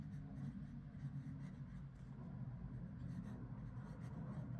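Waterman Expert fountain pen with a medium steel nib writing on paper, a faint continuous scratchy glide heard up close and alone.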